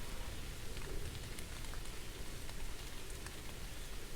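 Steady rain in The Moon Sliver video game patters densely and evenly on surfaces, a soft continuous hiss with scattered individual drops heard alone throughout.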